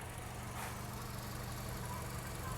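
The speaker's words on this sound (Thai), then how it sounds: "ฟังเสียงเครื่องยนต์คือเงียบสนิทนะคะ" Idling engine of a 2012 Toyota Altis 1.6G, heard with the hood open: a steady, low, even hum with no changes, quiet and continuous throughout.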